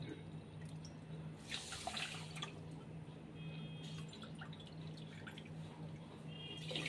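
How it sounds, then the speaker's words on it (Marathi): Two cups of water poured into sugar for Bombay halwa syrup, a soft trickling and dripping stream with small splashes over a low kitchen hum, fairly quiet and continuous. "हे 2 कप पाणी घेतलंय मी."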